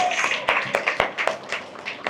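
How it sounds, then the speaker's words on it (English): Scattered clapping from teachers at an orientation session, a handful of distinct hand claps at uneven intervals, fairly close and moderate in level, with faint background chatter. "Give a big round of applause"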